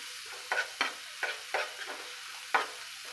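A spoon stirs coriander and green-chilli paste through a hot tempering for green chickpea chaat, with five or six distinct scraping strokes over a faint continuous sizzle and no voices.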